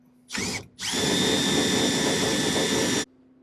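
A power drill drives the jack on an Eby cattle trailer at high speed, a brief whir, a short pause, then a loud steady grinding whine held for about two seconds before cutting off.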